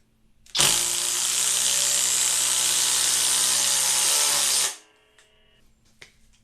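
A Flex power drill drives screws in one sustained high whine lasting about four seconds, loud and close, then stops abruptly with brief mechanical rattles after.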